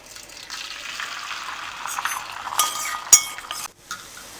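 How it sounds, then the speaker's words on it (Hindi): Eggs sizzle and fry in four tablespoons of cooking oil on a hot tawa, a steady close crackle with a few sharper spits and a brief metallic clink of a utensil near the end. "तवे पे 4 टेबलस्पून कुकिंग ऑयल डाल दिया है। अब इनको हम फ्राई कर लेंगे।"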